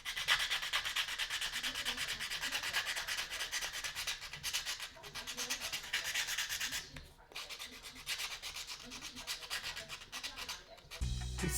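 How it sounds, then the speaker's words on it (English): Steady hand sanding on the end of a small wooden desk leg nub, continuous rapid back-and-forth scratching strokes for over ten seconds with brief pauses, close and moderately loud, no voices. "I started by sanding the end of the little nub of this desk leg"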